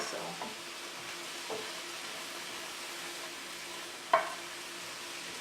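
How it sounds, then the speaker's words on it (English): Onions, celery and mushrooms sauté in a pan for a quinoa dressing, making a soft, even sizzle with a single sharp clack near the end. "The onions are just starting to turn translucent, and so is the celery. And of course you want the mushrooms a little bit sauteed also."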